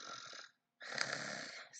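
A hedgehog character snoring in a read-aloud animal story, two long rasping snore breaths, close and fairly loud, separated by a brief silent pause.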